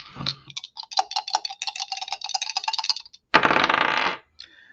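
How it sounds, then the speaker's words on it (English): Astrology dice rattled and rolled across a hard surface, a rapid run of small clicking clatters followed by a short burst of rough rattling, close and clear with no talking. "So let's go ahead and get the astrology dice."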